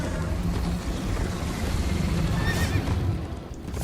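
In the video game Minecraft Story Mode, a horse gallops at speed with fast, dense hoofbeats under a rushing background, and a shrill neigh breaks through near the middle.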